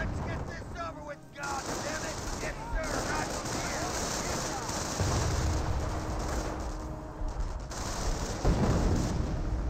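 Small arms and heavier guns firing in a Company of Heroes 1 battle, a dense continuous rattle of shots and distant booms beneath a commentator's voice.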